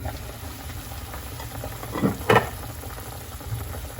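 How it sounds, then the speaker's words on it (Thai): Steady bubbling and sizzling of water boiling in a pot, with a couple of brief clinks partway through. "น้ำเดือดเราจะเดี๋ยวมาใส่"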